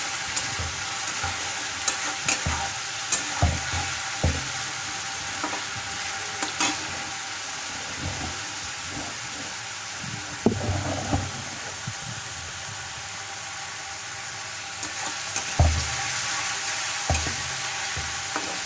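Onion fries lightly in a pan with a steady hiss and sizzle, broken by soft clicks and scrapes of stirring, fairly close with no talk.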